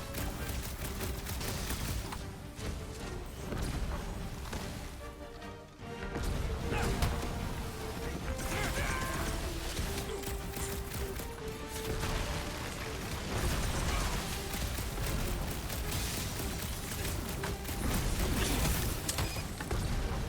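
Gunfire rattles through a firefight in the video game Marvel's Guardians of the Galaxy, dense and continuous, mixed with crashes, mechanical creaks and other combat effects for the whole stretch.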